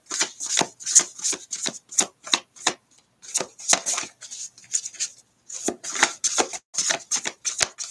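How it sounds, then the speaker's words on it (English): Tarot cards being shuffled by hand, a run of crisp riffling bursts in a quick, uneven rhythm, close and clear, with a brief pause partway through before the shuffling resumes. "I don't like shuffling these cards."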